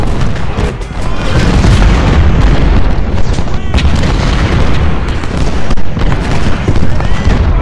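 Volleys of musket and artillery fire from a Civil War battle at Malvern Hill in the strategy game Ultimate General: Civil War, a dense continuous rumble of booms and crackling shots, with a voice talking over it.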